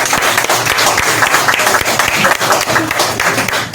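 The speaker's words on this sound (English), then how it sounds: "Let's have a big round of applause for Bob One." An audience at an aerosol arts and graffiti conference applauds, dense loud clapping from a crowd filling the room continuously.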